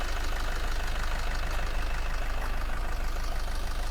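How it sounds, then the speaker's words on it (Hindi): A Maruti Swift Dzire car engine idles steadily nearby, a constant low rumbling throb with a slightly rough, knocking rhythm and no voices. "इंजन तो आपको पता मारुति के पास वही है। इसकी आप साउंड सुन सकते हो।"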